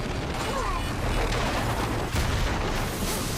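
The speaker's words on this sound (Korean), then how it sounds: "결국 접전을 펼치던 두 대의 헬기가 충돌하고 맙니다." Two helicopters collide in a Mission Impossible Fallout chase, a dense roaring crash of booms and grinding metal with a sharp impact near the two-second mark.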